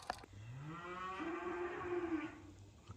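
Farm cattle lowing close by, a long drawn-out moo rising and holding for most of the stretch, loud and clear with faint rustle around it and no talking.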